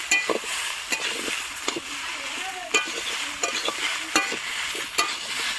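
Vegetables sautéed with turmeric and ground dried-chili paste in a pan, stirred repeatedly: rhythmic spoon scrapes and taps over a continuous hissing sizzle, close up, with faint voices in the background.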